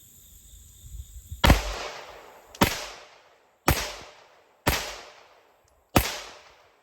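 Five loud pistol shots of 124 grain +P ammunition ring out at an outdoor range, evenly spaced about a second apart, each a sharp crack with a decaying echo and no talk.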